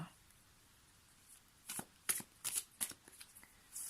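A deck of Lenormand oracle cards is shuffled close by: after a quiet start, several quick papery riffles and slaps come in a loose cluster, fairly soft, with no voices over them.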